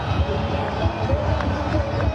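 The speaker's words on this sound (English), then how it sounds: "The roar in the crowd tell you all about that one" A stadium crowd roars after a boundary in a Sri Lanka versus Pakistan T20 cricket match, a dense, steady wash of cheering, loud throughout.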